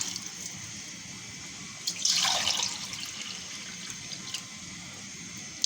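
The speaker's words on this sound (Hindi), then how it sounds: "और ये 4 गिलास पानी डालना है।" A short splash of water pouring into a pot of rice for aloo matar pulao, a couple of seconds of gushing that fades back into quiet room tone.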